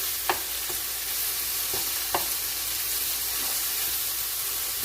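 Beef sears in a frying pan with a constant loud sizzle and hiss, broken by a few light clicks and scrapes of stirring.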